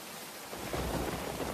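Steady rain pours down with a dense, broadband hiss that swells louder midway through, heard alone without voices, used as a storytelling sound effect.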